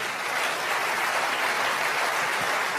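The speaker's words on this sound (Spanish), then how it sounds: "Tienen que aplaudir más que eso si lo crees" Church congregation applauding during a sermon, a dense, even roar of clapping that holds steady without pause.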